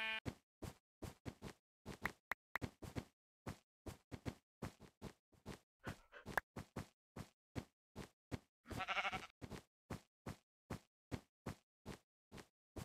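A pink sheep in a video game bleats as part of a rapid, regular train of short sharp bursts, each evenly spaced, with a longer rougher call in the middle, clear and close against silence.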